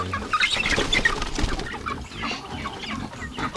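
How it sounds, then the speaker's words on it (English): Chickens cluck and chatter nearby amid a busy beach-resort farmyard in Siruma, Philippines, with wing flutters and scattered bird calls mixed in. "They've got chickens"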